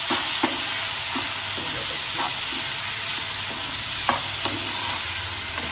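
Sabudana khichdi is stirred in a pan, a soft steady hiss and sizzle with occasional light scraping taps of the spoon, close and even, without speech.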